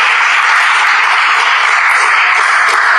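A church congregation applauds and cheers for Jesus, a dense, loud, continuous wash of clapping held at a constant level throughout.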